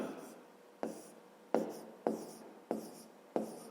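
Handwriting on paper while working a fifth-grade maths exercise, heard as a series of close, evenly spaced pen strokes, each a sharp scratch that fades, about six in a row without talk.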